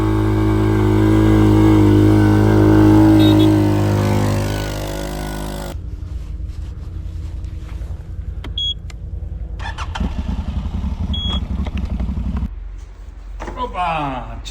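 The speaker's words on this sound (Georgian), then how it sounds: "ესეც Yamaha მაინც ამოდის." Yamaha off-road vehicle climbing through deep snow, its engine droning loud and steady at first, then dropping to a lower, rougher labor with brief revs and clanks while people talk nearby.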